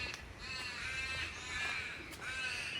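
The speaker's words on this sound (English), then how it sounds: "You can hear the birds singing." Harsh crow-like caws from birds in a quiet suburban park area of Box Hill, Melbourne, repeating several times at moderate distance over steady outdoor ambience.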